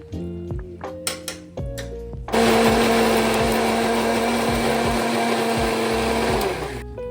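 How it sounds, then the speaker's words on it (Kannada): A few hollow clinks and knocks, then a mixer grinder starts with a loud, steady high-pitched whine that runs for several seconds before cutting off. "ಮಿಕ್ಸಿಯಲ್ಲಿ ರುಬ್ಕೊಳ್ಳೋಣ"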